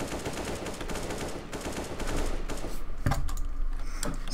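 Video game gunfire during a shooter match, dense bursts of rapid automatic shots crackling continuously and growing louder in the second half, with sharper single cracks standing out.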